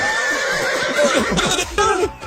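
A horse whinnies loudly and close, a rising and wavering neigh with a second burst near the end, with some voices mixed in.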